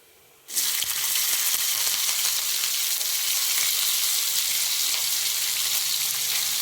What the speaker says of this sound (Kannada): ಜೀರಿಗೆ ಸ್ವಲ್ಪ ಚಟಪಟ ಅಂದಮೇಲೆ ಈಗ ಹಾಕ್ಕೊಳ್ರಿ